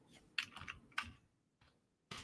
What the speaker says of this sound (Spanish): Entonces, hago clic en nuevo